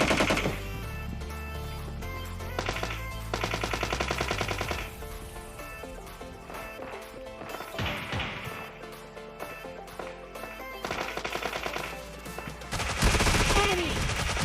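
Rapid automatic gunfire bursts in the video game PUBG Mobile, including a Thompson and DP, rattling in repeated volleys of varying loudness, mixed with game sound effects and no talk.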